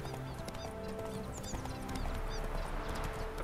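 Horse hooves trotting in The Witcher 3 video game, a steady clip-clop rhythm running throughout over game ambience and music, with no one talking.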